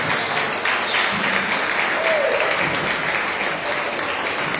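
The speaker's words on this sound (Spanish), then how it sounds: "Dale un fuerte aplauso al Señor." A church congregation at a Spanish-language worship service gives steady, dense applause that continues at an even level throughout, with a faint voice briefly rising above the clapping.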